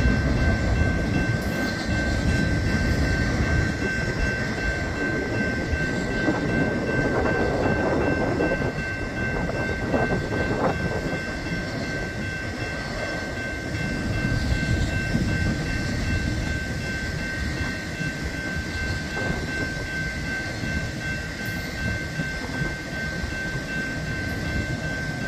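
A westbound BNSF Z intermodal freight train from Willow Springs to LPK passes on the Emporia Sub at 78th Street in Shawnee, Kansas, with a loud, steady roar of rolling cars and rail clatter that continues throughout, without a horn standing out.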